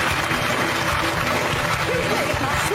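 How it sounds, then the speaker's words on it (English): Studio audience applause at a daytime talk show, a dense steady wash of clapping filling the whole moment, with crowd noise and voices blended underneath. "Give her a round of applause"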